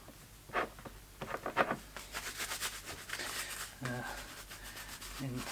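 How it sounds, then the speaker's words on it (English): Gloved hands rub mink oil into leather gloves, working it over the palms and fingers with soft, close, continuous scuffing and squeaking strokes that swell and fade, with no talking. "Just get all that worked into the leather, down onto the palms."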